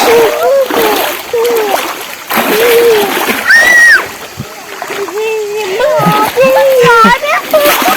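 Splashing water from steps through the shallow Sabun Stream toward a waterfall, with people and children talking throughout.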